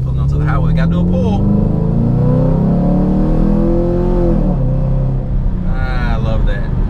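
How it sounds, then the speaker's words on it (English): A car's exhaust roars loud and close as it accelerates hard onto a highway, the engine note climbing steadily for several seconds before easing off, with a voice talking over it. "pulling onto the highway, gotta do a pull"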